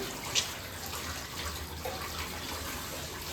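Tap water runs steadily into a sink full of dishes, a continuous close hiss and splash with one brief clink early on.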